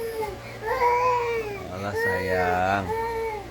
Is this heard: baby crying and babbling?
yes